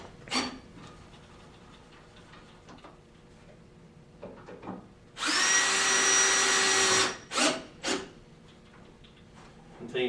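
A power drill drives a screw into a chaise lounge frame in one sustained whirring burst of about two seconds, surrounded by scattered clicks and handling knocks, with speech nearby.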